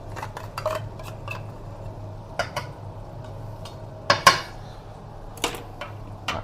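Seasoning being stirred and sautéed in a cooking pan, with scattered metallic clinks and scrapes of a utensil against the pan over a low steady hum. No one speaks.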